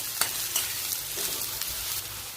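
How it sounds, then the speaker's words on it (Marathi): Bottle gourd sautés in oil with finely chopped garlic, sizzling steadily while a spoon stirs with a few sharp scraping clicks against the pan. "यामध्ये आता दुधी तेल टाकायचं व्यवस्थित असं परतून घ्यायचं"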